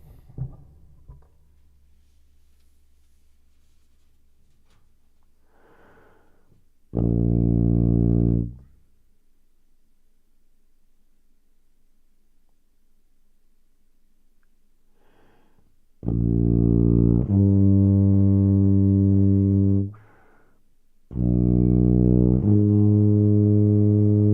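A tuba plays an interval exercise on different notes: three sustained low brass tones separated by silent pauses, the later ones longer and shifting pitch mid-note, full and close with soft breaths between.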